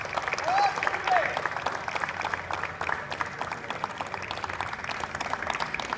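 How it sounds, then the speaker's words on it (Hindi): Audience applause at a poetry event at NIT Rourkela, a steady roar of many hands clapping throughout, close and sustained, with a host speaking over it. "एक बार फिर से स्वदेश वेद के लिए जोरदार तालियां बजा दीजिए"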